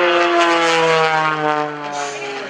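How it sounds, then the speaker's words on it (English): A 400-horsepower aerobatic light airplane diving at an airshow, a loud close propeller drone with strong harmonic buzz that sags slightly in pitch as it passes, no voices. "It's a light airplane, and it's got lots of horsepower up front."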